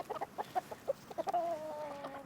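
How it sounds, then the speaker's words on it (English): A flock of chickens nearby, with a rapid series of short clucks that ends in a longer drawn-out squawking call, moderately loud and heard alone without talking. "Can you guys see the chickens?"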